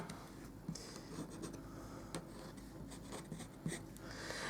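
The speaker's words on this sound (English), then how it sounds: "I'm just going to do some little tick marks using my bone folder." Bone folder making small tick marks on card stock: faint, close scratchy strokes and light taps in a quiet room, several short marks spread across a few seconds.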